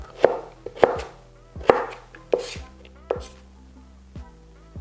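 A knife chops food on a cutting board while fish is prepared, with about seven sharp, evenly spaced knocks, close and clear with no talk.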